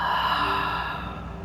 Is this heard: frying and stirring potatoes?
no